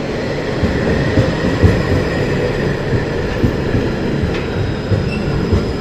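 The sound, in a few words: Belgian metro tram running through a tunnel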